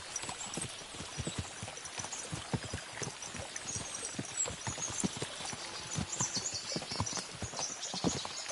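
In the video game Kingdom Come Deliverance II, hooves clatter in quick irregular beats as horses gallop, a steady drumming patter across the whole stretch with faint background noise.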